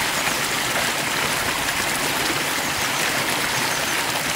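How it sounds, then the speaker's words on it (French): Water flowing from a spring, a steady, full rushing and splashing like a small stream, close and continuous with no voices. "Bon, tout d'abord, trouver une source. Un peu trop d'eau là."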